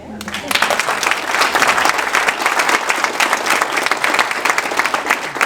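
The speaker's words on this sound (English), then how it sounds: "that's one other round of applause" Audience at a city council meeting bursts into sustained applause, dense clapping that starts abruptly and holds steadily loud for several seconds.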